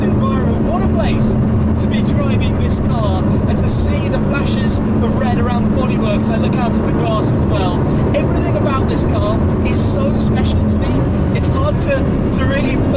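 A Ford GT's engine drones and builds while the car is driven, a loud continuous rising and falling tone filling the cabin, with a voice talking over it.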